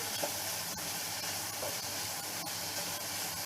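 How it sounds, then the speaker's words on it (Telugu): Bitter gourd pieces frying in a pan until browned give a steady, close sizzle and hiss that runs unbroken throughout, with a few faint clicks of stirring. "ఈ కాకరకాయ అన్నది బ్రౌన్గా అయ్యేదాకా వేయించుకోవాలి"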